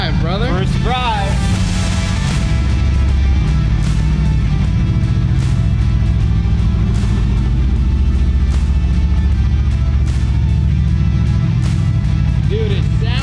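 A 1200-horsepower Mercedes-AMG build rumbles on its first drive around the block, a deep, loud engine growl that rises with revs, heard close under excited talk.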